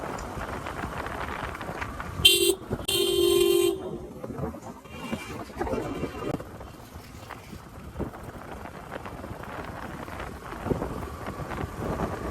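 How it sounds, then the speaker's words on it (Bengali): Vehicle horns sound in traffic: two short toots close together near the start, then a longer blast, over a constant roar of road and wind noise. "হর্ন দেওয়ার পরেও"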